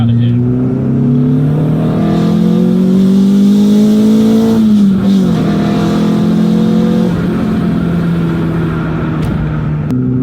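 Tuned Renault Clio 182 Trophy four-cylinder with head work and fast road cams, revving loudly up and down close by, a rising harsh engine note that dips briefly midway before climbing again.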